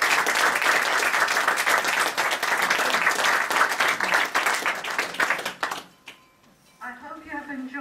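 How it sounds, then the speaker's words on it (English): Guests at an Inner Wheel dinner applaud together, a loud, dense roomful of clapping that swells and then fades out abruptly; a voice starts talking right after it ends. "he deserves a big applause from all of us"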